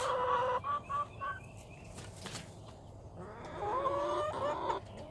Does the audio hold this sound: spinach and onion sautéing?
no